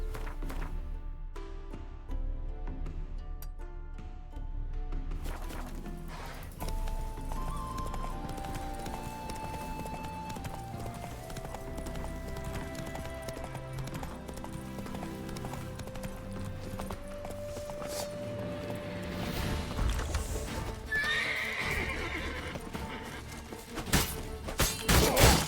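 A horse gallops in the video game The Witcher 3, with steady clip-clop hoofbeats and occasional whinnies over a game soundscape, building in intensity toward the end.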